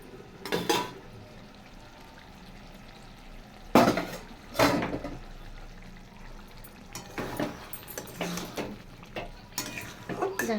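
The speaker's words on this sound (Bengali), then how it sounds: "সুন্দরভাবে আমি কষিয়ে নেব" Potato curry in a pan being stirred and fried, with a spatula scraping and clanking against the metal in a few loud bursts over a soft, low sizzle.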